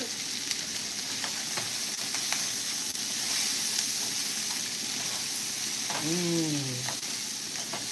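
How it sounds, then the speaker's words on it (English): Beans and garlic sizzle steadily in a pan while being stirred for shrimp fajitas, a close, constant frying hiss with light scraping, and a voice speaks briefly near the end. "Then we're gonna give that a stir."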